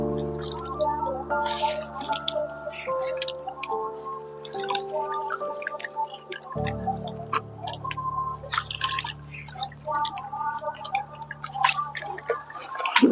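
Freshly harvested turmeric rhizomes from a terrace grow bag are rinsed in water, with close, irregular drips, splashes and wet squishes as the roots are handled, amid quiet clinks.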